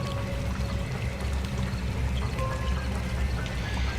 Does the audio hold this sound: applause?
no